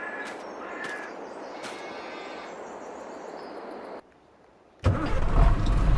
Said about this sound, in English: Let's go ahead and pull the truck out.